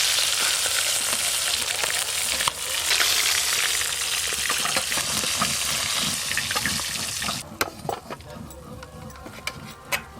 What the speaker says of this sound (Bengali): প্রথমে সিলভার মাছগুলো ভেজে নেব ভালো করে।